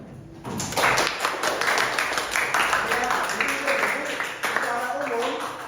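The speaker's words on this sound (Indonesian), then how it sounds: "Oke, tepuk tangan" A classroom of students claps hands together, a lively burst of clapping that starts after a brief pause and carries on, thinning toward the end with voices mixed in.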